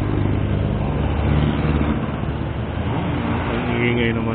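Jeepneys and other road traffic rumble loudly and continuously nearby, a steady engine drone with some revving throughout.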